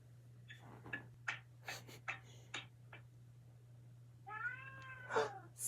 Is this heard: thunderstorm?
no